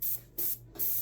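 An airbrush loaded with paint reduced 50% gives two short, close test bursts of hissing spray, each stopping abruptly.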